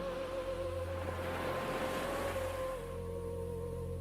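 Calm sea waves wash in and retreat in a steady, soft surf hiss, with a low constant rumble and a faint sustained tone running underneath.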